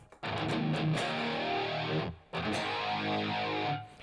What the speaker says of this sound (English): Let's throw a little bit of distortion on there.